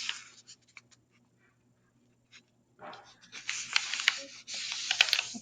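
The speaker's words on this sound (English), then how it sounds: "Take your corner, fold it" Copy paper being folded and creased into the first step of a paper crane, with soft rubbing and crinkling strokes, quiet at first, then denser and louder scraping of fingers pressing the crease near the end.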